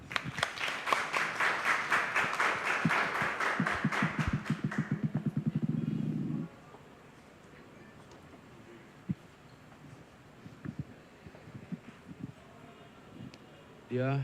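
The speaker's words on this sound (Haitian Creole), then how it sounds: "Dong Xuan Min, vice-directeur de la NATCOM, sous vos applaudissements, s'il vous plaît" Applause at a ceremony as a vice-director is invited to speak, loud rhythmic clapping for about six seconds that then cuts to a quiet room with faint scattered noises.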